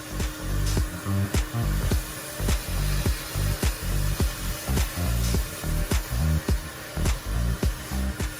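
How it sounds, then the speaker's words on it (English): A small vacuum cleaner whirs steadily up close, its hum pulsing in quick regular strokes as it is pushed back and forth. "it's a small vacuum cleaner, but this one vacuums like it's on steroids"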